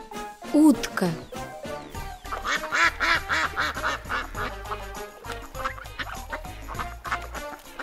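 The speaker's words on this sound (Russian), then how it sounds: "Утка." A farm duck quacks in a short burst, followed by more nasal calls mixed over steady background music, in a children's cartoon about farm animals.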